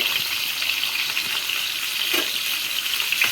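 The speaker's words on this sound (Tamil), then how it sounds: "தக்காளி இந்த மாதிரி ஃப்ரை பண்ணி எடுத்துக்கணும்" Tomatoes fry in a pan with a steady, close, bright sizzle that hisses evenly throughout, with no voices.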